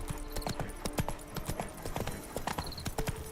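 Galloping hooves of Roach, Geralt's horse in The Witcher 3, beat in a quick steady clip-clop rhythm close up, with no talk over them.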